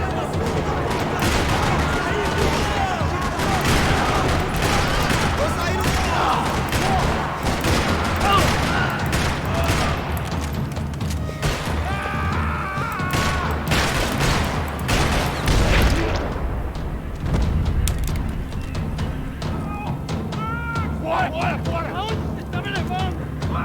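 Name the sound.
gunfire in a parking lot, video game Max Payne 3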